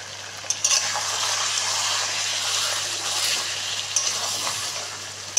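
Curry sizzles steadily as it is stirred and fried in a pan, a continuous close hiss broken by a few soft scraping knocks of the spoon.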